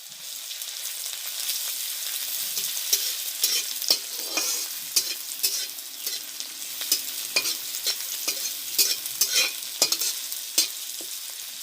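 Garlic paste sizzles in hot oil in a pan while a spoon stirs it, giving a steady fry broken by frequent sharp scraping strokes at an irregular rhythm, close and fairly loud.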